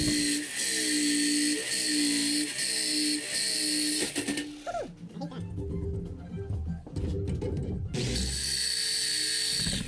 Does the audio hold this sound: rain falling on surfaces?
no